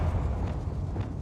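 Bombarda blasting spell in Hogwarts Legacy, a steady rumbling explosive roar with low booming energy lasting throughout, no voices over it.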